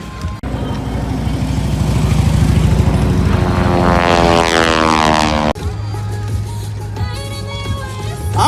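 A loud open-cockpit propeller airplane at the Redlands, California air show roars past close by, flown solo from the rear cockpit. The engine drone rises and shifts pitch as it passes, then drops to a lower steady hum.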